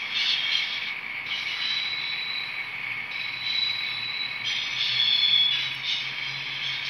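A continuous high-pitched squeal of model train wheels on straight track, from a Scale Trains GTEL 8500 Big Blow gas turbine locomotive, wavering in loudness over a steady mechanical rumble.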